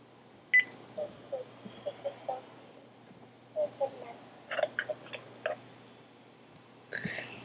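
Telephone keypad tones dialing out for a phone call, a series of short separate beeps in small clusters, fairly quiet over a steady low hum, with a louder burst near the end.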